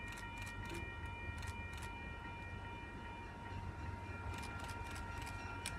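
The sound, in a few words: train approaching station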